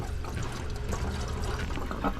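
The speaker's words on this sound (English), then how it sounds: "So now when I open these valves, hot side will drain," Water draining from the opened valves of a Noritz N-0751M-DV instant hot water heater into a bucket, a continuous close splashing trickle with no talk.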